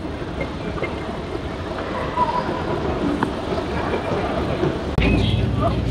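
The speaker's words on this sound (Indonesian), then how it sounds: "We are in MRT." Singapore MRT train interior during a ride, with a steady rumble of the rolling carriage and rail noise throughout and a louder jolt near the end; faint background voices.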